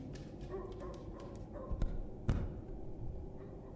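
A dog in a video game barks and whimpers in brief, scattered yelps and a couple of sharper thuds, fairly faint, over low background ambience with no talking.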